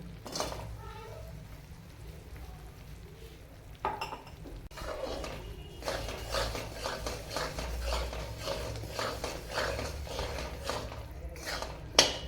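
Jaggery stirred in a pan over low flame until it melts for sesame vadi, with repeated scraping and clinking of a spoon against the pan, close and steady, and a few louder knocks.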